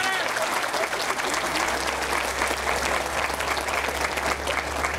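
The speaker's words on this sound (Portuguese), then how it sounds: "Palmas para o seu Paraíba." Steady applause from a ceremony audience at a public housing handover, dense clapping filling the whole stretch with a low steady hum beneath, close and loud.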